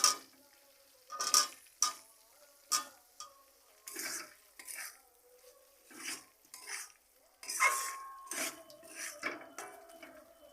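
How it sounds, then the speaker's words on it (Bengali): Potatoes go into fried spice paste in a pan for a cauliflower and potato curry, giving a run of scraping stirs and clinks of a spoon against the pan, each one short and crisp, with a faint sizzle underneath and no talking. "মশলা কষাই হয়ে গেছে এবার একে একে সবজিগুলো আমি এতে দিয়ে দেব এবার দিয়ে দিচ্ছি আলু"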